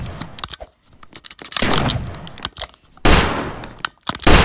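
Sharp, close gunshots from a Roblox shooting game crack out in irregular single shots and short bursts, separated by brief near-silent gaps, with a couple of louder sustained blasts.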